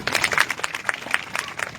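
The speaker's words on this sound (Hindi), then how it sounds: "इस बेटी के लिए ताली बजाइए आपने।" Scattered applause from an audience at a tribal community gathering, cheering a young schoolgirl; thin, uneven clapping of moderate loudness with separate claps standing out, brief and without talk.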